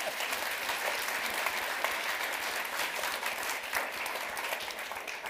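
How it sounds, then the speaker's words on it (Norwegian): An audience at a launch party for a book and film applauding, steady, fairly close clapping from many hands that continues unbroken for the whole stretch. "Som kanskje kan få en liten applaus."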